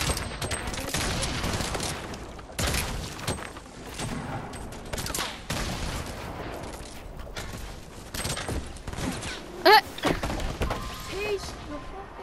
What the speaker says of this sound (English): There's one duo shooting at him right now.